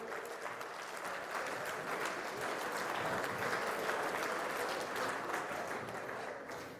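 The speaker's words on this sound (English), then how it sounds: "let's get a round of applause for you wonderful" Sustained applause from a large crowd, dense and steady clapping that carries on for several seconds before starting to taper off at the end.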